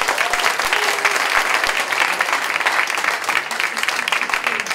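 Audience applause at the opening ceremony of an arts festival at a performing arts school, dense and sustained clapping from a large crowd filling the hall at steady loudness.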